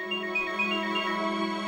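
A phone rings with an electronic ringtone for an incoming call, a steady melodic tone that repeats evenly, alone and fairly faint.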